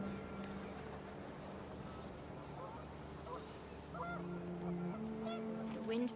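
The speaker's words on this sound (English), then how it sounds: "panicked geese appeared and quickly went" Panicked geese honk in What Remains of Edith Finch, a flock's repeated calls rising over a steady wind-like background, growing louder and more frantic toward the end.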